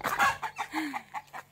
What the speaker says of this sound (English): I'm taking videos of chickens on my rounds